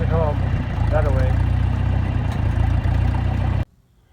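A farm tractor engine at a hayfield runs in a steady low rumble close by, with someone speaking over it, until the engine cuts off abruptly near the end.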